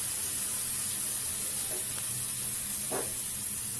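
Chena tikki curry masala fries in a pan with a constant loud sizzle and hiss, broken by a couple of soft stirring scrapes, close up and with no talking.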